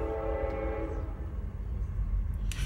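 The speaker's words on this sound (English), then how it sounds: "Sorry about the train, man." A train rolls past with its horn sounding, a loud, steady low rumble carrying sustained harmonic horn tones that fade after about a second, with a brief higher squeal near the end.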